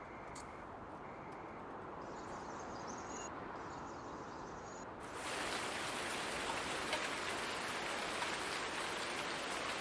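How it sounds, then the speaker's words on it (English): Steady rain falls across a large American farmland map in Farming Simulator, a dense hiss that swells noticeably louder and heavier about halfway through and continues without talk. "Now, with that, I bring you rain."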